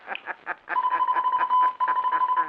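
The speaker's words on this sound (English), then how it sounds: "Now he's going to turn on that automatic radio sender." Automatic radio sender aboard an adrift vessel in a 1950 radio drama sends a distress signal: a steady electronic tone broken by rapid pulsing beeps, loud and close with no voices.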